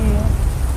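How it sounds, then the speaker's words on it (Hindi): Heavy rain in a Hindi cartoon, a dense, steady wash of downpour noise filling the whole moment, loud and continuous with no distinct drops or thunder. "तभी तेज बारिश शुरू हो जाती है।"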